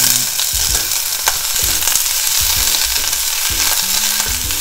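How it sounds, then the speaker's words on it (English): Broccoli and garlic sautéing in a hot pan, a loud steady sizzle and crackle throughout, broken by repeated stirring knocks and scrapes of a utensil against the pan. "And then here I'm gonna put in the rest of the broccoli."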